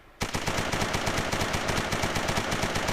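Sten submachine gun firing full-auto, a loud, close, continuous stream of rapid evenly spaced shots that starts abruptly and runs without pause for several seconds.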